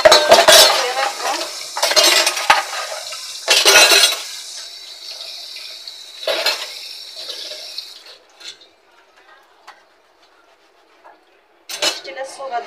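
Steel spoons and cutlery clatter and clink in a home kitchen as they are washed, coming in several loud bursts with quiet gaps between them and a few faint knocks, without any speech.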